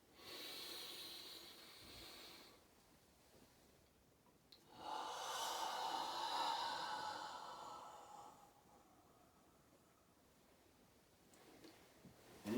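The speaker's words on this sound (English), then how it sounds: "Big breath in." A deep breath drawn in during a relaxation breathing exercise: a soft, airy inhale swells and holds for several seconds, fairly close and quiet, framed by fainter breaths before and after, with no talking.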